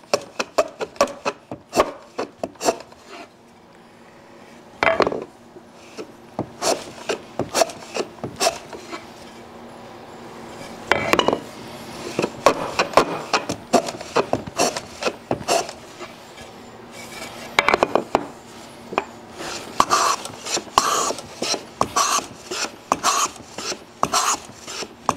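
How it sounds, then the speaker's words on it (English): A chamfer is hand-trimmed on a wooden drawer part with a rasp-like cutting tool, producing repeated short scraping strokes in uneven bursts, close and fairly quiet, with pauses between passes. "Now we'll just go in here and trim this back. Got to cut our chamfer up here first."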